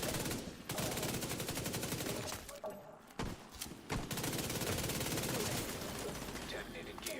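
Dense, sustained video-game gunfire, a rapid fusillade of shots running almost nonstop with brief gaps, loud and close, with a voice talking over parts of it.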